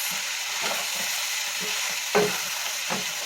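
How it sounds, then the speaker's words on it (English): Rainbow chard cooks down in a pan with a steady soft sizzle and frying hiss, broken by a few sharper scrapes and stirs, fairly quiet and close with no voices. "So we got our rainbow chard. We're going to let it cook down."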